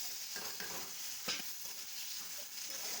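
Taro stolons, dried fish and onion being stirred in a frying pan, with a steady close sizzle and several scraping stir strokes throughout.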